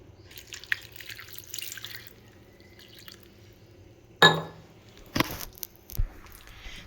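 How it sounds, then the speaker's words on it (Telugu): Water is poured from a tap onto small cut pieces of bitter gourd in a home kitchen, heard as a few short splashes and drips against a quiet background. "దీంట్లో కొద్దిగా వాటర్,"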